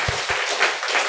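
A church congregation at a Korean Sunday worship service applauds in a short, dense burst of clapping close by, with no voices over it.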